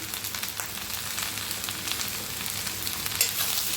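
Chili and turmeric fry in an oil-filled pan, giving a steady close sizzle with faint crackles and a brief clink near the end.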